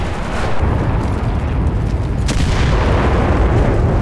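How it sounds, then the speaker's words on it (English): Continuous booming blasts and rumbling explosions in the World War II shooter Enlisted, with tank fire nearby, fill the scene loudly and densely, with one sharper crack standing out midway. "Why are there so many fucking explosions, dude?"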